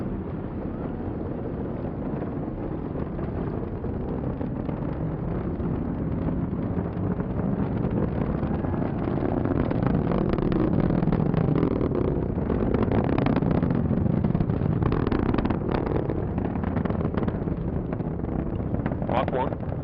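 An Atlas rocket carrying the TDRS-K satellite roars steadily during launch ascent, a dense, continuous rumble that stays loud throughout, with a voice reporting the flight over it.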